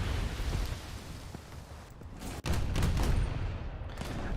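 In a naval video game, a battleship's guns fire a salvo: a loud, dense barrage of booming blasts, then a sharp cut, then more heavy rumbling gunfire. No voices are heard.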